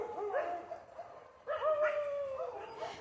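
Puppies let out drawn-out, whining barks and yelps in the morning, two bursts separated by a short pause, moderately close with no talking.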